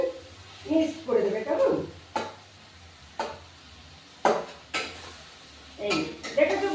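Tomatoes being stirred into a cooking masala in a pan, with scraping spoon strokes and clinks of utensil against metal coming in separate bursts, over a faint low hum and some voice murmur.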